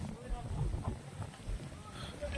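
Cool mountain wind buffets the microphone on an uphill walking trail near Baltal, a steady low rumble of gusts with faint rustling throughout.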